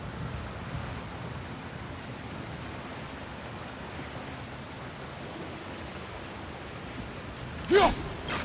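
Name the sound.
water flowing in video game God of War Ragnarök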